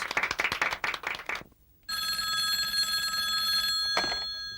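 A telephone bell in a 1991 Turkish TV drama rings loudly and steadily after a quick burst of sharp clatter and a short pause.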